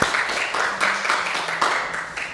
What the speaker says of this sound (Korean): 우리 하나님께 영광의 박수를 다시 한번 돌려드리기 원합니다